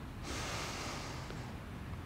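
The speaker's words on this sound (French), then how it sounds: "d'inspirer fortement par le nez en gonflant le ventre" A person takes one long, strong inhale through the nose during a breathing exercise, a sustained airy rush lasting over a second, close and fairly soft, with no speech.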